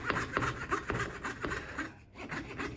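A dull fret saw blade cuts through thin wood at a workbench during saz making, with quick, even rasping strokes in a regular back-and-forth rhythm, close and alone.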